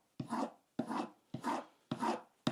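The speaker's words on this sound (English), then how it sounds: "I'm going to sharpen my skiving knife a bit" A leather skiving knife drawn over a sharpening surface in five separate long rasping strokes, each about half a second with brief pauses between, close and fairly quiet with no talk.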